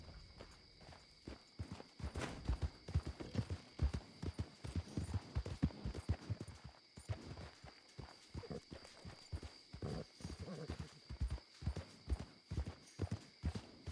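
Hooves clip-clop steadily from a horse walking in a video game, a faint, even series of hollow knocks that continues throughout under a low background hum.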